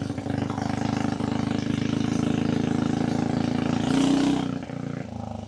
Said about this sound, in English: Motor sounds like it's running perfect too. It's not backfiring, it's revving out fine.